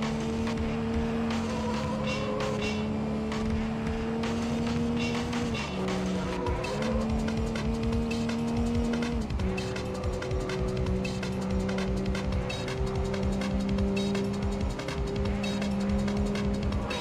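Race cars in the PlayStation game Need for Speed High Stakes roar continuously, a sustained engine drone that steps in pitch with gear changes, loud throughout with no talk.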